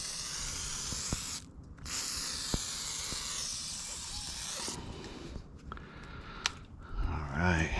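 Continuous hissing spray of WD-40 aerosol in a backyard, a long steady burst, a brief pause, then another sustained spray, fairly close and loud, with some handling noise near the end.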